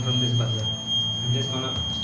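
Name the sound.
electronic buzzer sounding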